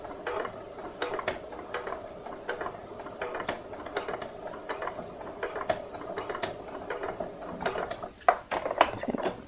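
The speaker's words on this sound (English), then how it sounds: "When I sew, I'm going to try and sew down the middle of the rickrack." Domestic sewing machine stitching down the centre of rickrack trim on a gingerbread man softie, giving a quiet, steady mechanical whirr with ticking clicks throughout, close by.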